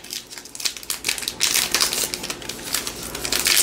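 A foil pack of 2022 Allen and Ginter trading cards is ripped open up close, making a run of loud crinkling and tearing foil rustles that come in quick bursts, with no talking.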